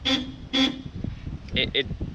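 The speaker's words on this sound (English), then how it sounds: "the horn sounds like it's dying" Weak, sickly car horn of a 2011 Scion xB RS Series, sounding four short honks in two pairs, the first pair fuller and the last two thinner and strained.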